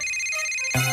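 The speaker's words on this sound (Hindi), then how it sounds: "किटी का फोन है।" A cartoon phone rings once, a short bright electronic ringtone burst with tonal harmonics that cuts in near the end of a quiet stretch.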